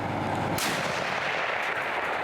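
A single loud artillery blast booms out, followed by a rolling, rumbling echo that fades slowly.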